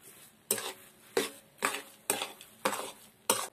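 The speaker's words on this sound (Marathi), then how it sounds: "तर आता चांगला मिक्स करून घेऊ" Jaggery mixture stirred in a pot, a spoon scraping and clinking against the metal in six regular strokes about half a second apart, close and clear.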